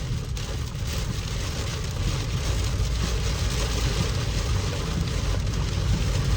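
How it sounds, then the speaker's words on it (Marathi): Steady, dense wash of heavy rain with a low rumble beneath, continuous and loud throughout, no voices. "खूप खूप खूप जोरदार पाऊस आहे"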